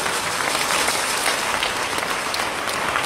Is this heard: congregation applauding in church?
yes